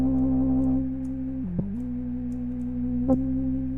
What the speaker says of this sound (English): Oh, my air conditioner's still on.